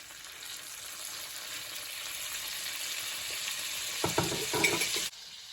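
A pork loin steak sizzles in a hot pan with a steady, close hiss. A few sharp clatters of utensils break in near the end before it cuts off, and no one speaks.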